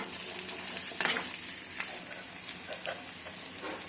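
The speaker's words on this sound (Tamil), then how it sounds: "பூண்டை சேர்த்து நல்லா கிளறி விட்டுக்கலாம்." Crushed garlic frying in oil with chicken for chicken chukka, a loud, even sizzle with a couple of stirring scrapes near the start, fading slightly toward the end, no talking.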